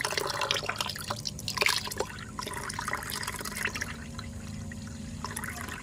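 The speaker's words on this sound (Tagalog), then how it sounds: "Dagdagan lang natin ng tubig." Water poured into an African night crawler worm bin, a light splashing and dripping trickle up close, strongest early on, over a steady background hum.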